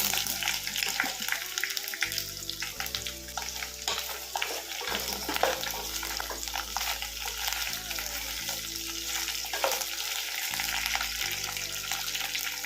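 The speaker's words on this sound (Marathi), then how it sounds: "त्याच्यानंतर या तेलामध्ये आपण ही भेंडी फ्राय करून घेऊया" Okra frying over high heat in a pan with a little oil, giving a continuous busy sizzle and crackle that stays loud and close throughout, with a steady low background hum underneath.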